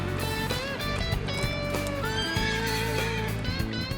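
Horses being readied for a Wild West parade whinny loudly several times in quick succession, with hoof clopping and other stable activity around them.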